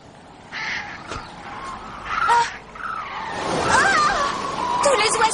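Cartoon crows caw in repeated harsh calls that grow louder and more crowded toward the end, over a busy animated soundtrack with a whooshing wind-like rush.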